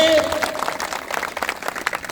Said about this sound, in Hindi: इन दोनों लोगों के लिए जोरदार ताली बजा दीजिए आप लोग